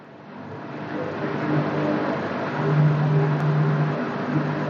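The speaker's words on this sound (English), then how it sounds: "Now motor will start, drum will rotate." Candy washing machine motor starting and spinning the drum after a control board repair, a steady mid-level whirring hum that swells slightly midway, heard alone without talk.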